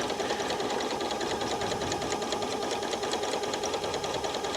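A Janome Horizon 9400 or 9450 sewing machine running steadily during free motion stitching, a continuous fast mechanical whir with even stitch pulses, close and alone without any talking.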